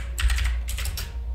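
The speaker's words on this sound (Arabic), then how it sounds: "راح نكتب مثلا علي موسى باسم مثلا المدير مثلا." Fingers tap quickly on a computer keyboard, two short close bursts of keystrokes with a brief pause between them and no voices.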